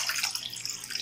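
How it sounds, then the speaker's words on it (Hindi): Water is poured steadily into a kadhai, a short continuous splashing hiss with no voices. "उसमें 2 कप पानी डाल देंगे।"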